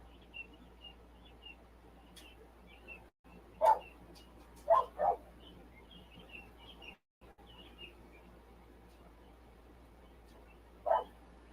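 Dogs bark in a few short, separate outbursts over a quiet background with faint bird chirps, the barks moderately near and spaced irregularly.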